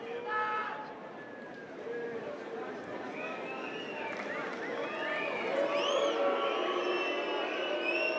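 Tennis crowd at a Stefanos Tsitsipas match reacts with a murmur of disapproval, a low wash of many voices with scattered whistles and rising calls, moderately loud and growing toward the end.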